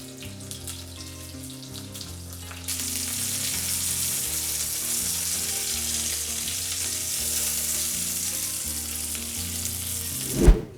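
Minced-meat cutlets sizzle in a frying pan, a steady hiss that turns louder and brighter after a couple of seconds and runs on, over soft background music, ending with a brief clatter.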